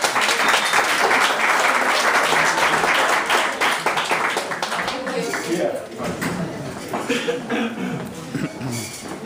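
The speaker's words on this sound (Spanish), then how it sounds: "Un fuerte aplauso." Audience at a cabaret and poetry night applauds loudly, a thick burst of clapping that gradually thins out, with scattered voices and chatter rising as the clapping dies down.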